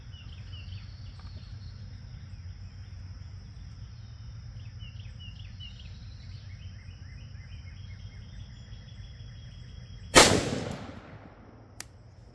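A single sharp rifle shot firing IMI 77gr Razor Core ammunition cracks loudly near the end, following a long stretch of steady insect and cricket chirping outdoors, then a faint second report.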